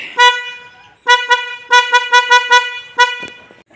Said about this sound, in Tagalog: Ngayong araw mag-install tayo ng loud horn sa ating Suzuki Every Wagon minivan DE64W na model.